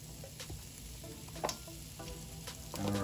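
Potatoes and carrots frying in hot extra virgin olive oil, a steady close sizzle with occasional sharper crackles and pops throughout.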